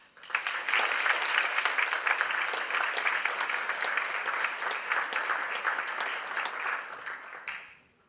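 A lecture audience at Stanford Law School applauds to welcome Timothy Garton Ash, with sustained clapping from a crowd that swells quickly, holds steady for several seconds and then fades out.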